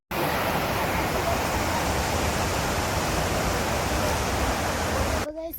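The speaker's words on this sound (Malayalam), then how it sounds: "ആ പുഴയാണ് ഗൈസ് ഇത്" A river flowing through the Valparai hills gives a constant, dense rushing roar at even loudness for about five seconds. It then cuts off abruptly, and a brief voice sound follows.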